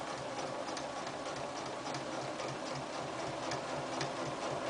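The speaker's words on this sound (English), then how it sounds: "I'm running the tongue of that zipper foot just right along that coiled edge" A sewing machine with a zipper foot stitches along a zipper coil, running in a steady, even, rapid mechanical whir with faint rhythmic ticking, close by and without talking.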